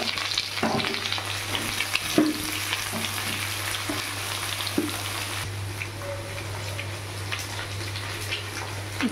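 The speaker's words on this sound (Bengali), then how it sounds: "আলুগুলো একটু লাল লাল করে ভেজে নেব।" Potato pieces fry in a pan for a banana-blossom dish, a constant close sizzle with occasional stirring clinks and scrapes, no one talking.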